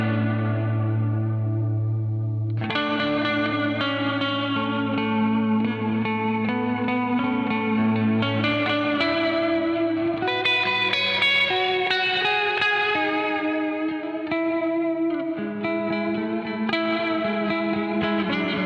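An electric guitar plays sustained chords and melodic notes through a Crazy Tube Circuits Mirage reverb pedal in mono, leaving lush, long-decaying reverb tails. The tone is loud and continuous for almost twenty seconds, with no voices.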